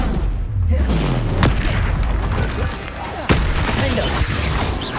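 Blasting-spell explosions from the Hogwarts Legacy video game boom repeatedly over a dense, continuous battle din, with a sharp crack near the middle and low rumbling throughout; a voice speaks faintly underneath.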